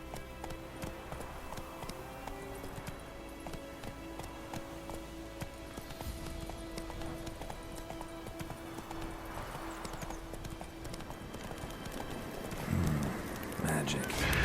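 Roach, Geralt's horse in The Witcher 3, gallops with loud, steady hoofbeats over game music, while a voice talks over the ride.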